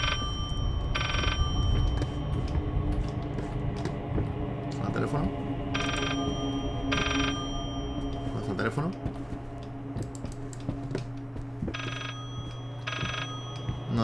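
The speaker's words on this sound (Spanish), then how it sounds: "Teléfono." A telephone rings in the horror video game Layers of Fear, its bursts repeating in pairs over a droning, eerie background, with a voice talking at times.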